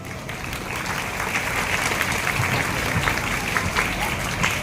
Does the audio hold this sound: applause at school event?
yes